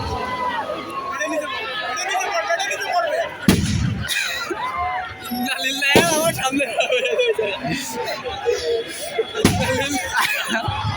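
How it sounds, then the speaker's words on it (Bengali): Fireworks burst at the opening of a badminton tournament final, with a few sharp, loud bangs and crackling among a chattering crowd while an announcer speaks over a loudspeaker. "এই মুহূর্তে আতশবাজির মাধ্যমে আমাদের আজকের এই ফাইনাল খেলার উদ্বোধন হয়ে গেছে"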